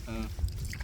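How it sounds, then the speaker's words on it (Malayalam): A rowing boat is paddled through mangroves at Padi in Kannur, with a brief splash and knock of the oar in water under close-by voices. "ഇവിടെ വള്ളം തുഴയുന്നുണ്ട്"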